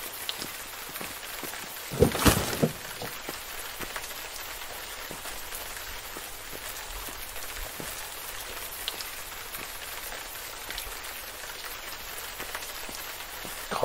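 Steady rain patters on surfaces in the survival game Road to Eden, a continuous close hiss with a brief louder rustling burst early on and no one talking.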